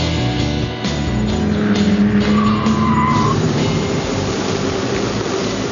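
A 200 brake horsepower, 2.5 litre BMW Compact driven hard, a loud continuous engine roar with a rising tire squeal as it skids, close and steady throughout.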